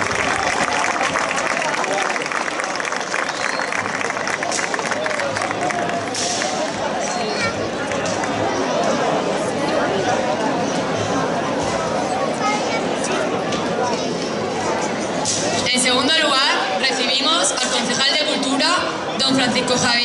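Audience applause greets the local mayor at the Hoya del Campo 2016 town festival proclamation, steady broad clapping mixed with crowd chatter and hubbub that runs throughout, fairly loud and sustained.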